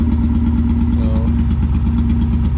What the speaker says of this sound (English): So from the barn in the dust and not working to now running